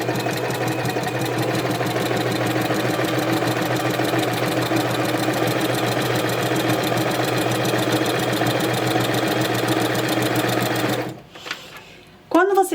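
A sewing machine (model 1006P) stitches a straight seam with a quilting presser foot, a loud, steady rapid chatter that runs continuously for about eleven seconds before stopping abruptly, followed by brief handling noises.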